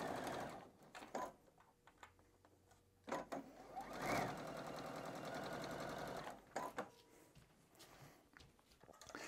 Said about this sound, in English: we're gonna sew now across the bottom of these